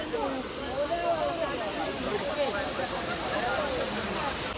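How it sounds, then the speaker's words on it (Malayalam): A small roadside waterfall on a mountain pass near Munnar rushes with a steady broadband hiss, while voices talk over it throughout. "നമ്മ ഒരു ചെറിയ വെള്ളച്ചാട്ടം കണ്ടപ്പോ നിർത്തിയതാണ്"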